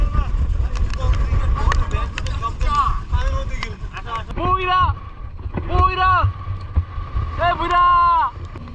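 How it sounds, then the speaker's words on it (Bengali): Steady, heavy wind roar buffets the microphone beneath people talking on a boat at Tanguar Haor wetland, with a low rumble throughout as if out on open water. "এত বাতাস হাওড়ার মধ্যে"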